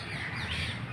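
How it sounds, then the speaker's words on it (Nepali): Crows cawing with other birds calling near a beach park in Puducherry, India, a steady outdoor chorus under a low hum of wind and ambient noise, with no talk. "दृश्यहरू, चराचुरुङ्गीहरू कराइरहेका छन् हैन।"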